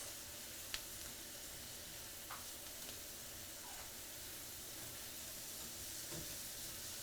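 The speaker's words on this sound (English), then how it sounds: "we're just going to keep sauteing all this" Mushrooms sauteing in a pan with chopped ingredients, giving a steady soft sizzle and hiss throughout, fairly quiet and continuous, with a few faint clicks of stirring and no talking.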